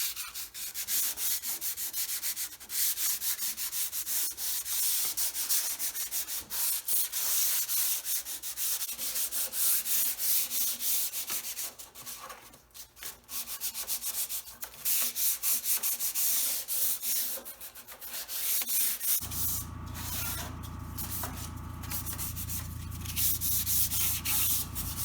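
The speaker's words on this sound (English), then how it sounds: "And I decided to do a light sanding with some 220." A mission oak desk base gets a light pass with 220-grit sandpaper: steady, close rubbing strokes that scratch on continuously, with a lower, denser texture in the last few seconds.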